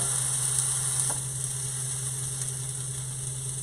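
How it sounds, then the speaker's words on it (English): Thin patties for a homemade McRib copycat fry in a hot pan with a steady, soft sizzle. A low hum runs underneath and no one talks. "So we are going to put our patties in."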